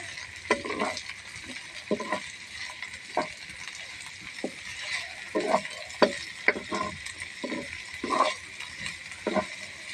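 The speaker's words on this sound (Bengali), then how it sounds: "আলুটাকে দিয়ে একটুখানি ভেজে নেব আগে" Chopped potatoes go into hot oil with already-fried onions, a soft sizzle beneath repeated scraping and stirring strokes of a spatula against the pan, irregular and fairly close.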